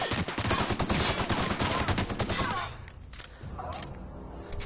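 Rapid bursts of video game gunfire crackle loudly in quick succession, then fade to scattered, quieter shots and faint background noise.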